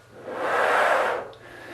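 A single drawn-out, airy, high-pitched breath pulled in through a tight throat, swelling then fading over about a second, close and alone.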